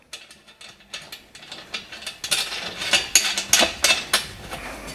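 Nut and washer run onto a bolt at a foot pedal lever's pivot point, giving a quick series of close, light metallic ratcheting clicks that speed up and grow louder toward the end, with no talking.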